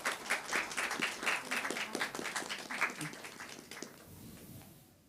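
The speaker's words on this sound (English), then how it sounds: "let's give a round of applause to all the panelists today" Applause from a conference audience for the panelists of a ZK social applications panel, a steady burst of many hands clapping that fades out toward the end.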